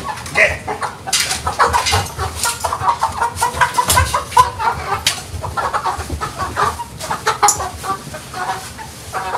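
Chickens kept in a fish tank cluck busily and continuously up close, several birds overlapping in a lively, uneven chatter with no talking.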